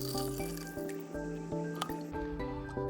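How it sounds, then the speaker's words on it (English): Water poured into a small bottle for a handmade humidifier, a steady close liquid fill with soft squishing and dripping, repeating in short pulses over a low continuous tone. "We need small bottle and we have to fill up it with water."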